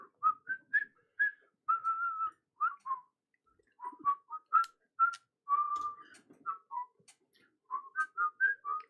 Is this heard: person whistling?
yes